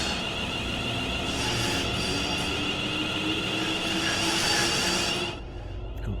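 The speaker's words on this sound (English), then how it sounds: "Traction motor's making a lot of noise there" Train Sim World locomotive traction motors whine and rumble steadily as the train pulls away slowly, a continuous loud mechanical drone with tonal hum that cuts off abruptly near the end.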